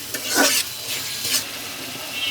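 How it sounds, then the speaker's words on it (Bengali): Chicken mince frying with spices in a pan is stirred in a few scraping strokes over a steady sizzle, close and moderately loud. "ভালো করে চিকেন কিমাটা এখন মশলার সাথে মিশিয়ে নিতে হবে"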